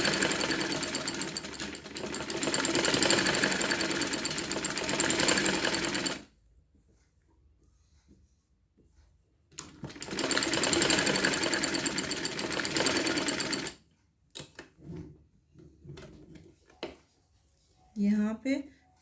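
A domestic sewing machine runs in two long bursts of rapid, steady stitching while elastic is sewn into a dress waist, with a quiet pause between them and brief clicks and a voice near the end.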